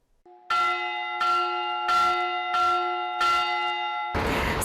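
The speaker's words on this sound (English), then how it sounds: "Some might say that the ringing of America's freedom bell was the highlight this morning" America's freedom bell rings at a Marine Corps 250th birthday ceremony in San Diego, five loud, evenly spaced strikes with long sustained tones, preceded by a soft lower tone and followed by a burst of broad noise.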